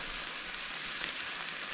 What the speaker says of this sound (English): Right, so the capers and the olives are in. Let's just give it a bit of a stir.